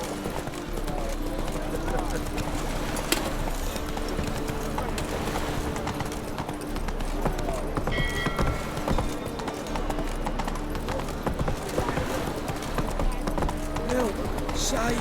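Roach, the horse in The Witcher 3, clip-clops along at a steady gait in-game, hoofbeats continuous and fairly close throughout, with game voices and ambient sound underneath.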